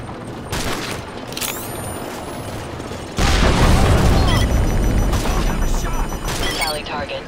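Russian tanks fire on a position in Call of Duty: Modern Warfare 3 while A-10s make gun runs, a continuous din of booms and rattling gunfire that swells sharply halfway through into a heavy, dense roar, with voices under the combat.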